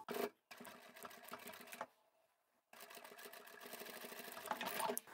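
A sewing machine stitches a seam on a large fabric duffle bag, running in fast close rattling bursts, stopping briefly in the middle, then starting again and speeding up.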